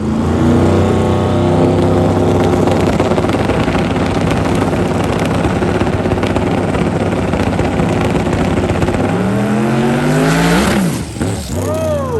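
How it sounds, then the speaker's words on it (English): A very fast drag racing car launches hard with some tire spin, its engine roaring loud and steady before the pitch sweeps sharply through rapid shifts near the end. "got a little bit of tire spin out of it as he probably had it tuned up just a little too much"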